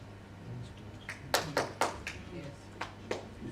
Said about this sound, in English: Others can clap as well if they want to